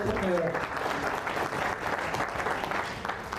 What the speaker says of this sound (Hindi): तालियां थोड़ी जोर से बजे